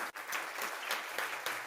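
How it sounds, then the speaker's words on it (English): An audience at a talk on AI in cybersecurity gives a speaker a round of applause, a soft, steady patter of many hands heard from a distance throughout. "big round of applause for Meera."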